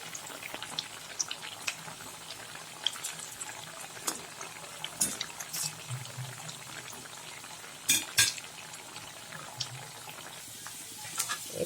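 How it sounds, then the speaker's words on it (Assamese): Potato smileys bubble and fry in hot oil, giving a continuous soft crackle with scattered sharper pops, the louder bursts landing near the middle and end. "অলপ সময় এনেকৈ মই গোটেইকেইটা অলপ অলপকৈ ফ্ৰাই কৰি ল'ম।"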